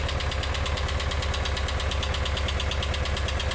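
The engine of a VW T3/T25 van idles steadily up close, a constant low rumble carrying a fast, even, slight ticking throughout.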